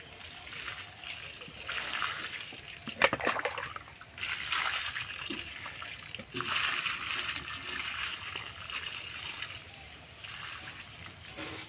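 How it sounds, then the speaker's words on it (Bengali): Water is poured at the base of two newly planted coconut saplings behind a house, giving uneven splashing and trickling in several bursts with a few soft knocks between pours. "এখানে জলটা রাখা আছে, জলটা এবার দিয়ে দেবো"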